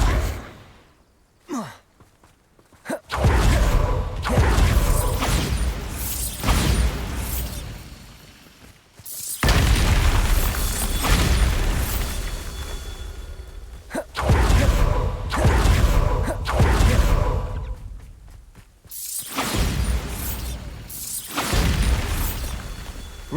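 Repeated Bombarda explosion spells in Hogwarts Legacy go off as several loud blasts with booming, rumbling bursts, separated by brief near-silent gaps.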